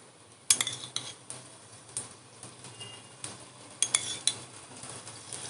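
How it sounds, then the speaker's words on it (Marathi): Metal spatulas scraping and clinking on a hot pan while a moong dal sandwich is flipped, with light sizzling beneath; several sharp clatters at irregular intervals, close and moderately loud, no speech. "एका स्पॅच्युलाने होत नसेल तर असं 2 स्पॅच्युला घ्यायचे आणि असं पलटी मारायचं."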